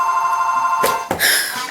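A house telephone rings loudly and close by, its bell trilling steadily, with a brief break before the ring resumes.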